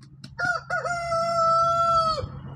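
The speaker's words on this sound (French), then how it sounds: "Il y a le coq qui chante." A rooster crows once, close and loud, a full drawn-out cock-a-doodle-doo with a few clucks before it over faint background noise.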